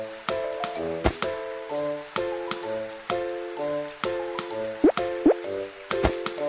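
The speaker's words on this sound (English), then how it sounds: "Pile up sandbags to prevent flood from coming ashore." In a baby panda firefighter video game, sandbags are piled up to hold back a flood, with repeated soft plopping thuds and short tonal chimes in a steady rhythm over quiet background music.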